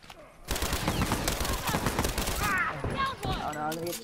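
Rapid gunfire fills a multiplayer shooter match, a dense, loud burst of automatic shots lasting several seconds while a player talks excitedly over the end.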